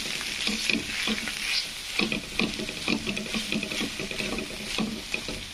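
Potatoes stir-fried in a pan with a little oil, a close, steady sizzle broken by repeated scraping and tossing strokes as the pieces are turned over.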